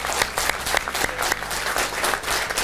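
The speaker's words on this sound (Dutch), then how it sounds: "Nou, mensen een groot applaus voor deze twee" An audience at a fan evening breaks into dense, steady applause for two performers, many hands clapping together at close range with no talk over it.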